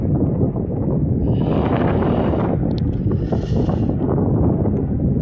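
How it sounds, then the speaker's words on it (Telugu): Strong, cold evening wind buffeting the microphone at a road junction in Qatar, a continuous loud low roar with gusting swells and no speech. "అబ్బో గట్టిగా వేస్తుంది గాలి"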